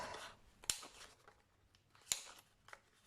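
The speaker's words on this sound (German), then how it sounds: "Ich brauche eine Eckenrunde." A corner rounder punch snaps through the corners of small handmade journal cards in two crisp, sharp clicks about a second and a half apart, close and fairly quiet, with a faint softer click afterward.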